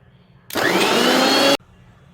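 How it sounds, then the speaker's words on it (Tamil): A mixer grinder blends red chili chutney in one loud, continuous whirring burst of about a second that starts and stops abruptly, with quiet room sound on either side. "இன்னும் கொஞ்சம் நைஸாக அரைக்கணும்."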